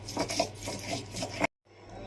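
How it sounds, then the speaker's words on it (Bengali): Green chillies are ground on a grinding stone, giving a soft, continuous rubbing and scraping that repeats in quick strokes, close and quiet, before it stops abruptly. "এই যে আমি 3টে লঙ্কা বেটে নিচ্ছি।"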